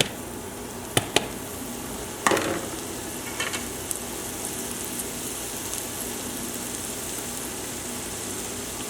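Onions land in an oiled pan and begin to fry, a steady soft sizzle broken by a few sharp clinks and scrapes of stirring near the start, then settling into an even crackle.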